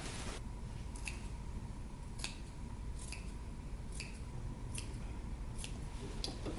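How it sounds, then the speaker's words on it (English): Sharp fabric scissors snip around the neckline of a sewn jacket (Simplicity 8093). About eight crisp cuts fall at a steady, evenly spaced rhythm over a low constant room hum. "we're going to make some snips around the neckline"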